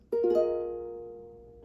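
A single ukulele chord is strummed, with bright plucked strings ringing out clearly and slowly fading over a second and a half.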